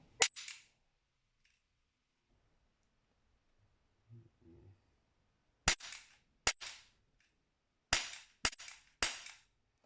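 Gunshots fired at small targets on a shooting range, sharp cracks alone: one early shot, then a rapid series of five after a pause, with faint handling noise between.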